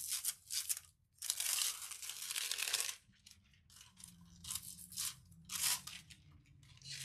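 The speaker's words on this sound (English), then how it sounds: "I'm going to cut off a smaller little sheet here that I can control" Scissors cut a sheet of aluminum foil for a DIY garden gazing ball, giving close, crisp bursts of crinkling and snipping in irregular clusters separated by short pauses.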